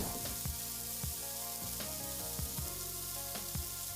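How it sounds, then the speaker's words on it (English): Chicken sizzles loudly and continuously on a hot grill, with occasional soft pops and scraping clicks over the steady crackle. "So when the grill is hot, this is what you want to hear. The sizzling sound."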